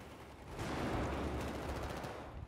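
Rapid automatic gunfire in the first-person shooter Battlefield 4, a dense continuous burst of shots that starts abruptly and holds steady for about two seconds, fairly loud and without voices.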